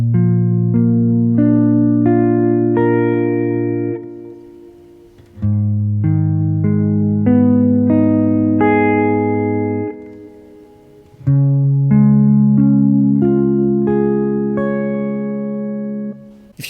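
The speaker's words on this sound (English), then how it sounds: "grab random minor or major bar chords on string 6 and try to play each note clearly" Electric or acoustic guitar picking out barre chords rooted on the sixth string one note at a time, three arpeggiated chord shapes each ringing out about four to five seconds, clear and close with no voice.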